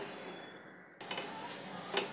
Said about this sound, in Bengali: এবার আর একটা আমি দিয়ে দিচ্ছি, আর একটা ভেজে আমি ফেরত আসছি।